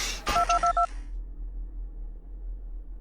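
An in-game phone in the horror game Five Nights at Candy's 2 sounds a quick series of four dual-tone electronic beeps right after a thump, then a quiet hum continues.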